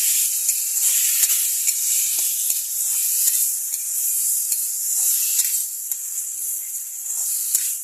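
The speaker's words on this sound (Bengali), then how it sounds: "একটু পেঁয়াজ দিছি আর কাঁচা লঙ্কা দিয়ে দিচ্ছি" Onion and green chili sizzle hard in hot oil in a pan with panch phoron, giving a loud, steady hiss up close, broken by frequent light clicks and scrapes of stirring.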